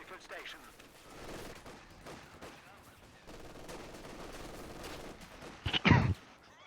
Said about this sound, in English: got a good MG positioning by Lucky